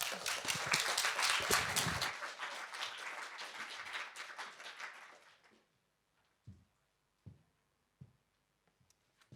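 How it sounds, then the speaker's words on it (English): An audience applauds loudly for several seconds after a poetry reading on a library stage, the clapping fading out, followed by a few isolated bumps and quiet room noise. "Let's give her a big round of applause."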